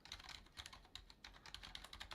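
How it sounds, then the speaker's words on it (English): Fingers type on a computer keyboard during a live Spring Boot coding demo: quick, irregular light clicks, soft and close, with no talking. "I'm just filling in the typing"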